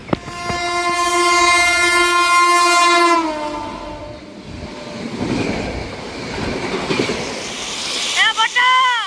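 A train passes as a comedy sound effect: a loud, sustained horn blast opens, then a heavy rolling rumble of rail cars, with a short second horn burst near the end.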